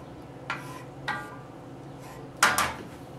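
Chicken with a pinch of pepper mixed in a bowl for pesto chicken, giving a few sparse, close clinks and scrapes spaced across otherwise quiet kitchen background.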